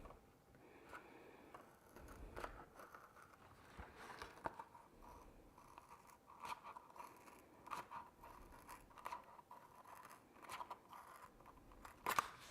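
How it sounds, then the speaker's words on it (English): Scissors cut through a rhinestone sheet in repeated crisp, crunchy snips. They run steadily and close up for about twelve seconds, quiet and heard alone. "And let's cut."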